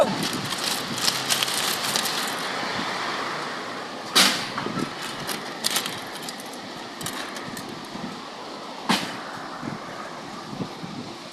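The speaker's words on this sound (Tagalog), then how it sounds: "ulan na" Steady rain hisses outdoors with some wind noise and occasional sharper gusts or splashes, no one speaking.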